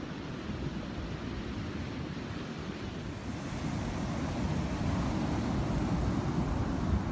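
Ocean surf breaking on a beach where people are body surfing, a steady loud wash of crashing waves with wind rumble, continuous and swelling slightly louder toward the end.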